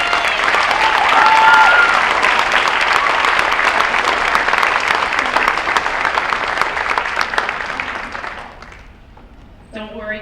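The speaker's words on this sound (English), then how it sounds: "Let's give them a round of applause." Audience applause at a high school spring band concert, a steady, full wash of clapping from a large crowd that fades out near the end, followed by a brief voice.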